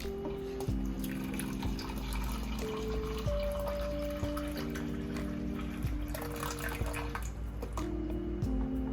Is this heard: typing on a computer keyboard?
no